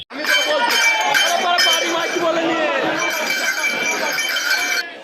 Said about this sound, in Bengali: এইটা শেওড়াফুলি রেল স্টেশনের ভিড়